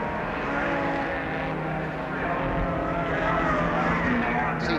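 1968 series production touring cars race past at Warwick Farm, a steady, loud roar of engines that swells as they approach, with a commentator's voice running over it.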